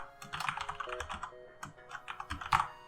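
Quick bursts of typing on a computer keyboard while naming crew in FTL, close crisp key clicks in uneven clusters with a short pause midway.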